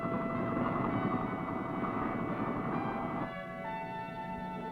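Military helicopters fly over hostile Vietnam jungle, their steady rotor drone loud and continuous, easing slightly toward the end.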